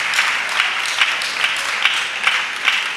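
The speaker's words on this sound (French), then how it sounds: "Acclamation à Jésus-Christ. Clap for Jesus Christ" A church congregation claps in a steady rhythmic beat, roughly seven sharp bursts in three seconds, dense and close, with no voices over it.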